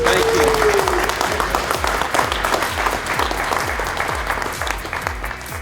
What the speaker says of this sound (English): So I just want to give him a big round of applause and thank you.